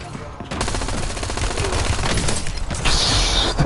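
Rapid automatic gunfire in the video game Warzone on its Haven's Hollow map, a loud continuous burst of fast shots that keeps going across the whole stretch with a denser, brighter push near the end.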